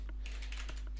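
Typing on a computer keyboard to enter an email login: a short run of quick, close keystrokes clicking at an uneven pace, with nothing else heard.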